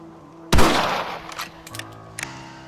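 A single rifle shot in Red Dead Redemption on Xbox 360, a sharp loud blast with a rolling decay, followed by a few faint clicks and small knocks.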